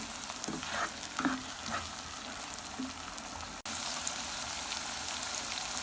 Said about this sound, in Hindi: लहसुन अदरक का पेस्ट ऐड करेंगे और इसको 1 मिनट भूनेंगे